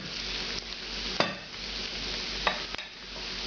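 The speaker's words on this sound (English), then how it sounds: "It's important not to cook this to the point where the shallot starts to darken and burn" Red onion softening in a frying pan, with a soft, even sizzle broken by a few sharp clicks of a utensil stirring against the pan.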